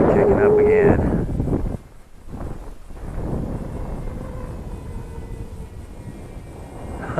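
Wind gusting outdoors at an RC flying session with a Tiny Wing 450 model plane, a loud rumbling buffet across the microphone that dips briefly, then builds again, while a voice talks at the start.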